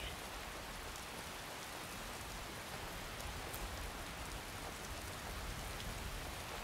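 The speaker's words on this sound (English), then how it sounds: "And it's raining." Steady, dense rainfall in the video game Skyrim hissing evenly throughout, a constant wash of drops with no voices.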